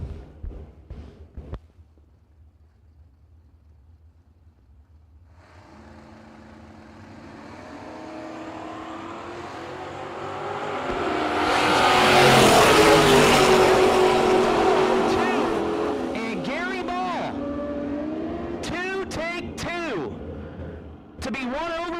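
Drag racing cars, including a Camaro, at a no-box open event: a quiet start with a few clicks, then engines build to a long, loud roar peaking mid-way before tapering, with revving bursts near the end. A public-address announcer talks over it.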